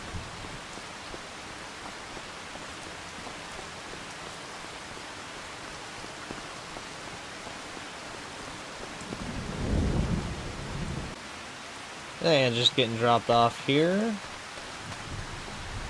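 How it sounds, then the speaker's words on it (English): Rain falls steadily in a farming video game, with a soft continuous hiss throughout, a low thunder rumble rolling in near the end, and a brief spoken line just after it. "No, it's raining, but I enjoy the rain."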